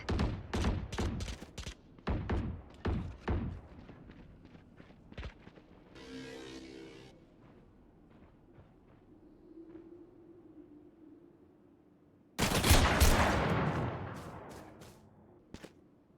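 Gunfire in the tactical shooter Valorant during a college esports match: a quick burst of sharp shots up front, scattered thuds and an ability hiss, then a loud blast of noise near the end, with no voices over it.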